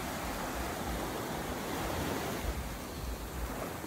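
Steady ocean surf at Salybia Beach in Trinidad, a continuous close wash of waves with some wind rumble, fairly loud and with no voices.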